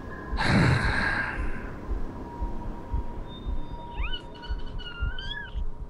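A person imitates a cat with a drawn-out, breathy sigh-like meow, followed after a pause by several short, high, rising mews, close and fairly loud over a quiet background.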